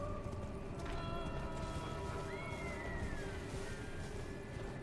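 Horse hooves clip-clop at a gallop in the Elden Ring video game, a continuous rapid beat set into a dense, steady game soundscape with faint tonal effects sliding over it.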